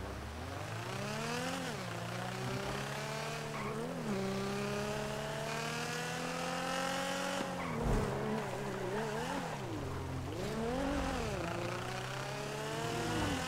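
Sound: car racing with tire squeals in a video game

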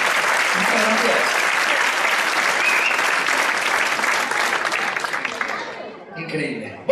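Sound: audience applause at magic show

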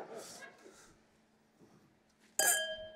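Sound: wine glasses clinking in a toast

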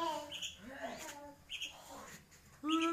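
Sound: young sooty-headed bulbul (kutilang) chick learning to sing

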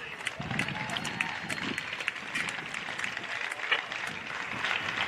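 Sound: crowd applause for the two grand final football teams

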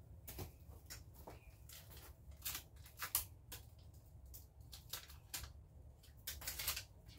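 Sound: scissors cutting

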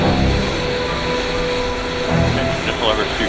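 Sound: military aircraft engine advancing to idle during startup

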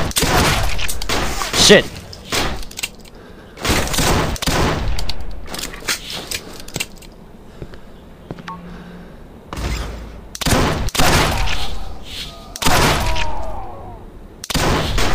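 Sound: gunshots in video game Sierra 7

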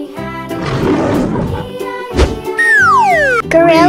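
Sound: tiger roaring

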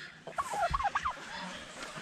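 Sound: turkeys gobbling

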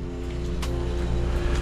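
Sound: pressure washer spraying down a pool cage

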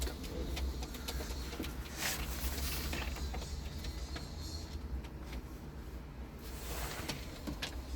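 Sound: male smoky (dumanlı) pigeon

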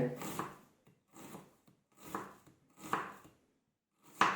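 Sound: finely chopping onion for Kolhapuri bhel

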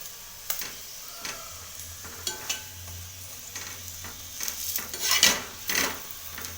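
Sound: cauliflower paratha frying in oil on low flame

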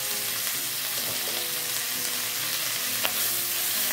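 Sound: sautéing spices and melinjo leaves in a pan

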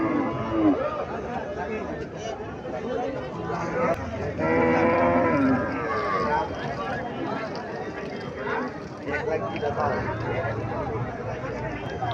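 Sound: cow mooing at cattle market

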